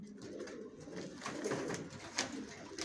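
Racing pigeon squabs coo softly in a breeder's loft, a faint low murmur of several birds with no talk.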